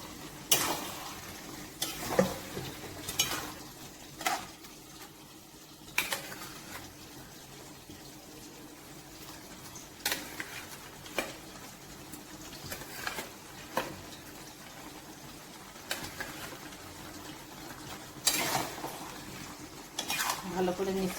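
Shrimp curry with pumpkin and ridge gourd stirred in a pan: intermittent scraping and clinking strokes of a spatula over a low background sizzle, spread across about twenty seconds.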